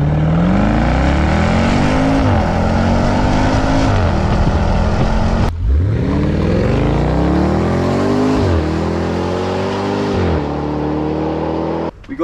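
Stainless steel aftermarket exhaust with 3-inch tailpipe finishers and a transverse silencer on a Land Rover Defender V8 P525, revving loud and close in repeated deep surges that rise and fall, with the exhaust valve open.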